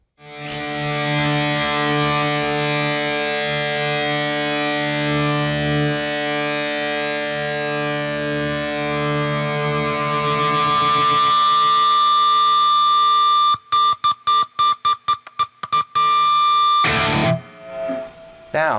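Sustained, heavily distorted high-gain tone from a Schecter Custom 2 Solo electric guitar ringing out loudly, then broken into rapid choppy bursts and a few final hissy fragments.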